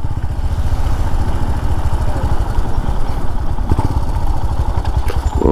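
A Royal Enfield Himalayan motorcycle is being ridden, its single-cylinder engine thumping loud and close in a fast, steady rhythm, with wind noise and no speech.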